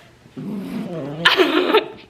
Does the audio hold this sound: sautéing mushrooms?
no